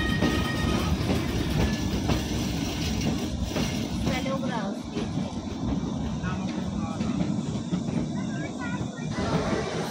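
The Kalka to Shimla train runs with a steady, loud rumble and rhythmic wheel clatter on the rails, with voices talking faintly over the continuous noise.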